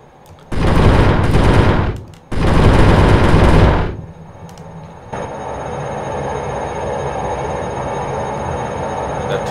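Aircraft cannon fire in the flight combat game IL-2. Two loud, rapid bursts, each lasting over a second, are separated by a brief gap and followed by a steady engine drone.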